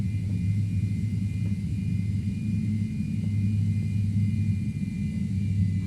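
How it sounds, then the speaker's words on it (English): MD80 jet engines in a flight simulator game rumble steadily and loudly at a low pitch, holding a continuous airliner drone with a faint high whine above it throughout and no talking. "Listen to these engines."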